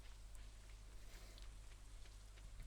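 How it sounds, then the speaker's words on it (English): Steady, even rain from the game Stardew Valley on a windy day, a constant soft hiss with faint scattered droplet ticks and a low drone, quiet and continuous with no talking. "It is raining sideways today"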